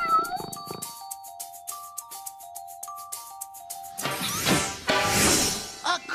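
A cat meows several times over a sparse plucked melody, then a louder, drawn-out caterwaul near the end.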